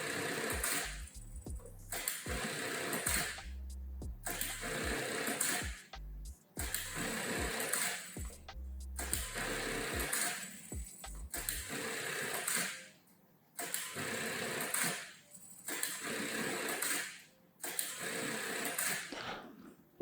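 A flat seam sewing machine stitches stuffed toy fabric in bursts of fast whirring, starting and stopping every second or two, close and clear.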